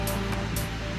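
Surf washing onto a beach, a steady broad rush of water with two brief louder hiss swells as waves break, close and continuous with no voices.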